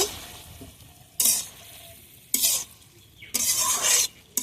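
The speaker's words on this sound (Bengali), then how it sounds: "ঢাকাটা খুলে নেব খুলে একটু নাড়িয়ে দেব" Methi greens with potato and brinjal get stirred in a pan, three or four loud bursts of sizzling and scraping separated by quieter gaps of low simmering, close to the listener.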